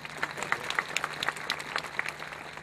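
Audience clapping at the opening of an amphitheatre in Ełk, a steady patter of many hands with crisp individual claps, moderately distant and fairly quiet, with no talk over it.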